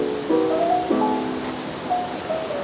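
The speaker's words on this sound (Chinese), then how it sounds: "看下面的溪水，看得清楚吗？" A forest stream flows below a campsite in Sanxia after a night of heavy rain, its steady, soft rushing wash broken by a few short, high chirps.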